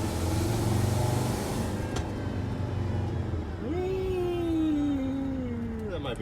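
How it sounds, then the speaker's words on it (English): A Mercedes T1N Sprinter diesel engine with a turbo leak idles with a steady rumble and rises and falls as it surges. A rising whine cuts in partway through, and a voice talks over part of it. "It's definitely got a turbo leak."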